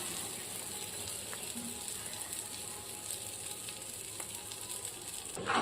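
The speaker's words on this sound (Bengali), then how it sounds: "এবার ছোলা ছাতুটাকে দিয়ে গ্যাসটাকে কমিয়ে আস্তে আস্তে ভালো করে নাড়তে হবে কিছুক্ষণ" Gram flour (sattu) is stirred and roasted in a pan over a lowered gas flame for kachori filling, giving a soft, continuous hiss with faint scraping and a louder clatter at the end.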